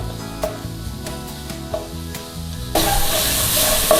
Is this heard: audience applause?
no